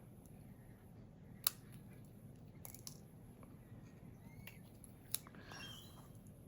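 Scissors trim gold die-cut paper pieces in a quiet room, with two crisp, isolated snips several seconds apart over faint background rustle.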